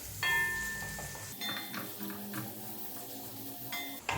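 Mutton pepper roast stirred and fried in a pan, with a steady sizzle beneath repeated scraping and clinks of a utensil against the metal, loudest near the start and again at the end.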